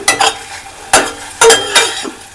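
Tomato pulao ingredients with garam masala and coriander being stirred in a pan, giving four or five distinct scraping strokes in an uneven rhythm, close and fairly loud, with no talk.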